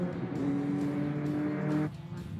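Race cars speeding around a track at night, a close, loud engine whine with steady high tones that drops away sharply near the end as a car passes by.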